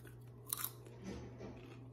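A couple of sharp, brief crunches close up from biting homemade popcorn, followed by quieter chewing against a low steady hum.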